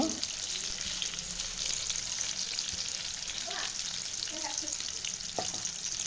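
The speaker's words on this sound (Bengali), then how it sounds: "এপিট ওপুট করে আমি ভালো করে একটু ভেজে নেব" Oil sizzles and crackles steadily as pitha (rice cakes) fry, with a few soft clinks of utensils against the pan.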